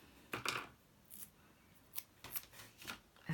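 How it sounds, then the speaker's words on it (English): Black tear tape being stripped off its backing for a handbag gift bag craft, with several short close rips and crinkles separated by quiet gaps. "So I'm just going to stick some tear tape on"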